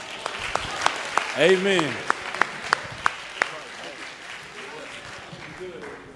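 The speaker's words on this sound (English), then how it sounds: "give yourselves a round of applause" An audience at the FAMU National Alumni Association convention gives sparse, evenly spaced claps that build briefly, while a voice speaks over them.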